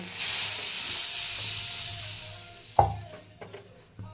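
Water splashes into a hot pan of softened tomato and onion, setting off a loud burst of hissing sizzle and steam that slowly fades, followed by a few clinks of utensils.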